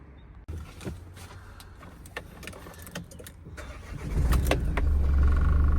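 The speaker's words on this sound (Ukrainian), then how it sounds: "Зараз ще заведу ще разок мотор" The 2.3 diesel engine of a 2017 Renault Master van cranks and catches near the listener, then settles into a steady, loud idle with a low rumble. Faint birds chirp in the background.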